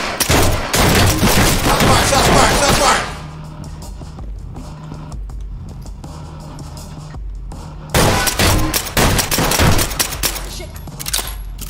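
Dense bursts of video game gunfire crackle in a loud fusillade for about three seconds, fall to a quiet rumbling lull, then erupt again in rapid volleys near the end.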